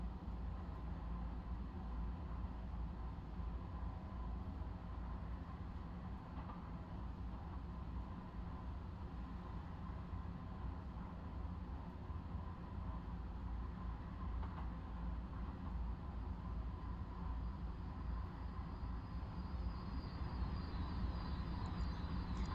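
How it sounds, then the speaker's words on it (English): Trains rumble through a parallel tunnel on the Hampstead line in Train Simulator Classic, a steady, loud, low roar that fills the whole stretch with no talking. "The standard thing of hearing the trains going in the opposite tunnel is on this line"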